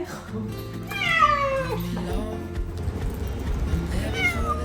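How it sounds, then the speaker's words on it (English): A domestic cat in a Paris apartment, suffering from a toothache, meows loudly and close by in several drawn-out, wavering cries over a low background hum. "Today, it's my cat, Calvin, who brought me back to day-to-day life here."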